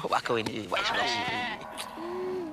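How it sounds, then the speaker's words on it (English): A goat bleats in wavering, drawn-out cries amid a comic market-style haggling scene, fairly close and loud, with a voice speaking alongside. "We will throw in a goat as a bonus."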